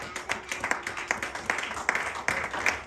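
A church congregation at a Sunday worship service in Sherbrooke, Canada claps and applauds. The claps are rhythmic and steady and sit moderately close, with a faint murmur of voices underneath.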